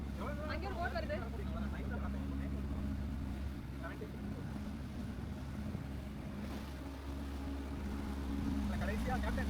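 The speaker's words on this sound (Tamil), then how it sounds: "அங்கே ஒரு போட் வருது." A motorboat on Lake Constance near Friedrichshafen drones steadily with wind and water noise throughout, while people talk over the engine.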